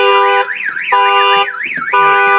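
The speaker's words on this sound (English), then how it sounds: "The alarm's going to fire off." A car alarm blares loudly and alone, cycling through a steady tone and a rapid rising-falling warble, repeating in a regular pattern.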